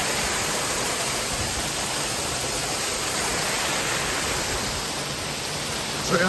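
Waterfall roaring at close range on Peak District moorland, a dense, steady rush of falling water holding loud and unbroken throughout.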